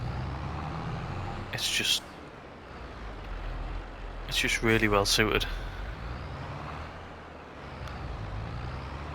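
A small tractor in Farming Simulator 22 drives along with a steady low engine rumble, while someone talks over it in two short stretches and a brief hiss cuts in.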